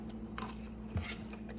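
Close mouth sounds of someone biting and chewing crunchy, lightly cooked vegetables, with a couple of soft crunches and squishy chews over quiet room tone.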